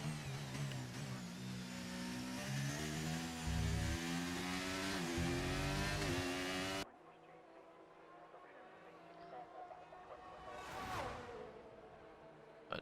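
A Formula 1 car engine in a racing video game at the British Grand Prix, loud and high-revving with rising and falling pitch through the final corners, then fading to a quieter, distant whine with a brief sharp swell.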